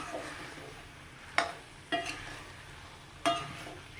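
Fried chicken coated in masala being stirred in a pan, with three distinct scraping clinks of the spoon against the pan over a soft background hiss of frying.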